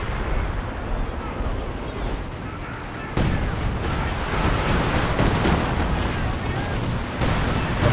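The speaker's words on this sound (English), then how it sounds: "We do have the assault artillery coming down again." An assault artillery barrage in Company of Heroes 2, heavy shells landing in a dense, continuous rumble of overlapping blasts with a sharper impact about midway, under a commentator's voice.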